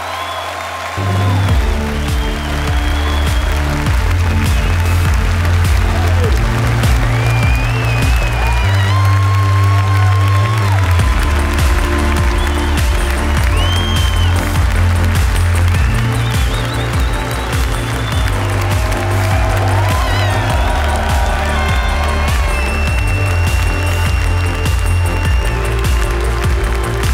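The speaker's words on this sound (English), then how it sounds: "we can give them a big round of applause" A live audience at a corporate brand reveal event applauds and cheers loudly and steadily, with whoops rising above the clapping over a heavy low music bed.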